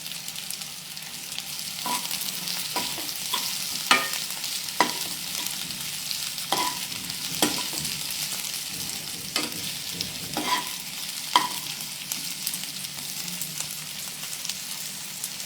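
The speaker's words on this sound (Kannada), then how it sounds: "ಟೂ ಮಿನಿಟ್ಸ್ ಅಷ್ಟು ಫ್ರೈ ಮಾಡೋಣ ಇದನ್ನು." Chopped onion fries in a pan with a steady, close sizzle, broken by repeated scraping stirs at irregular intervals; no voices are heard.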